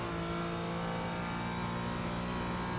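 Mazda MX-5 race car engine in a racing video game, a steady droning hum held at constant pitch with layered harmonics, moderately loud and continuous with no talk.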